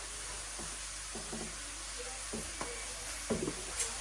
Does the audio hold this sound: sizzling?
yes